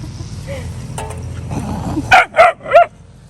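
A dog on a farm gives three quick sharp barks in a row, loud and close, after some quieter background sounds.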